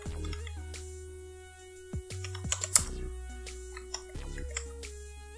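Sparse, light clicks of keys on a computer keyboard, typed in short runs with pauses, quiet and close over steady background music.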